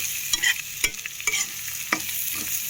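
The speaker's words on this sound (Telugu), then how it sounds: "ఇలా వేసి ఒకసారి కలుపుకుందాము." Taro curry (chamadumpa pulusu) being stirred in a pan, with a few distinct scraping strokes over a steady background sizzle, close and fairly quiet, no talking.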